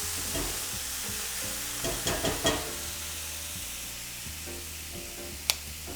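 Shrimp for a spicy Creole New Orleans étouffée fry in a pan with a steady close sizzle, a few quick stirring clatters in the middle and one sharp tap near the end, without speech.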